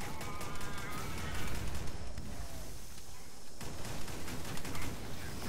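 Rapid gunfire and weapon noise from the co-op shooter game Alien Swarm crackle steadily through the stretch, mixed with game effects while players talk over it.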